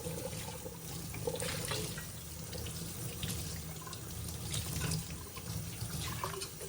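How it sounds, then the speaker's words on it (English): Tap water runs steadily into a sink while a Stanley tumbler is rinsed inside and out, a continuous close splashing wash with small changes as the cup moves under the stream. "So get all that all sudsy, clean on the inside and the outside, and then just rinse it."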